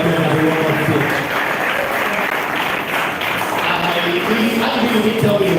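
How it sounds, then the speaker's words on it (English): Applause from an audience welcoming an honoured guest at an evening event, a steady dense wash of clapping that holds loud throughout, with some crowd murmur and voices mixed in. "Please give me a round of applause as we welcome him."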